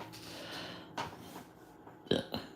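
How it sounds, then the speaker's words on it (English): A woman burping near the microphone, a couple of low guttural eructations with a louder burp toward the end, amid quiet breathy sounds in an indoor setting. "Stop burping"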